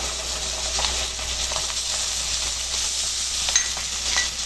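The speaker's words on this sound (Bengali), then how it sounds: "মাছের সাথে আলুগুলো আমি লাল লাল করে ভেজে নিব" Gochi fish and thin slices of potato frying in hot oil give a steady, dense sizzle with faint crackles throughout, close and even, with no voices.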